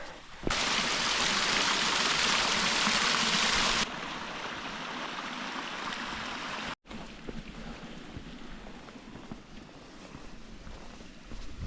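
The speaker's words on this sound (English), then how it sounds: "It's just started lashing it down again." Heavy rain lashes down near a small waterfall on a Lake District fell, a loud, steady broadband rush that drops slightly after a few seconds and continues unbroken after a brief cut, with no talking.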